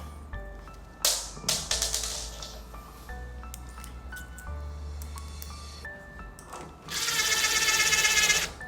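Small screws are driven by hand or with a driver to fit a handle onto a cabinet door during an interior fit-out, giving short irregular clicks and scrapes, with a louder burst of whirring near the end.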